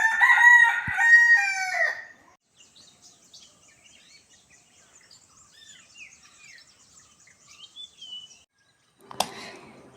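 A village rooster crows loudly and close for about two seconds, one long harmonic call, followed by quiet morning air with faint distant bird chirps and a brief sharp knock near the end.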